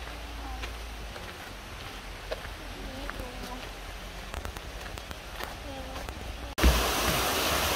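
Stream water flows steadily along a green walking path near Unmunsa temple in Cheongdo, a continuous broadband rush with soft birdlike chirps scattered over it, ending in a louder close burst.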